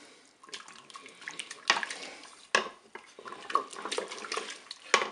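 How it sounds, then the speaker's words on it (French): Mussels and crème fraîche being stirred in a Cookeo multicooker pot, with wet clinks and scrapes of a utensil against the pot and sloshing liquid in an irregular rhythm, close and moderately quiet. "Je mélange."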